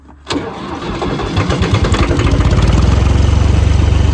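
A tractor with a broken clutch, left in fourth gear and low range, cranks and starts. A brief whir leads into a rising engine rumble that settles into a loud, steady, fast-pulsing chug close by, with no voices.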